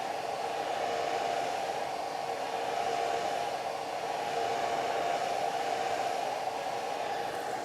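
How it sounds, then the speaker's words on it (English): A hair dryer used as a blower dries a watercolor landscape painting, a steady close whooshing hum that holds an even level throughout with no talk over it. "I'll turn up the blower a little bit higher, get a little faster."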